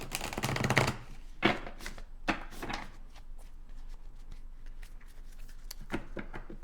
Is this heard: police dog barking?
no